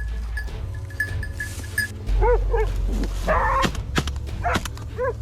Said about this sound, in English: the pack of hunting dogs surrounded it, barking loudly